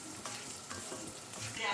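Coriander seeds roasting in a little oil over a medium flame, giving a steady close sizzle with a few scraping stir strokes through it.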